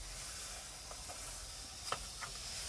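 Fish frying in a pan, giving off a faint, steady hiss and sizzle with a few small pops and crackles scattered through it.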